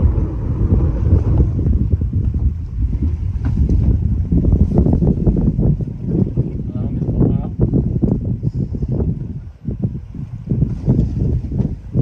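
Wind on a sailboat running under genoa in about 14 knots off Kos, Greece, a constant buffeting rush over the microphone with water and rigging noise, while people talk over it.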